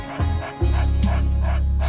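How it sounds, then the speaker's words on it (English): Pet dogs barking indoors, a couple of loud, close yips and barks over a steady low hum, with no talking. "my dogs are barking your head off"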